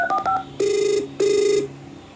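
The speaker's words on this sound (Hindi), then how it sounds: "वो अपना फोन निकालकर आयशा को कॉल करता है।" A phone call being placed: quick dial tones followed by two long, loud ringback tones with a short gap between them, close and clear with no talk.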